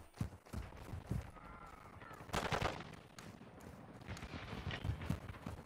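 Burst-fire gun shooting in Call of Duty Modern Warfare 2, with several short clusters of gunfire at moderate distance, the loudest burst in the middle, mixed with fainter game effects.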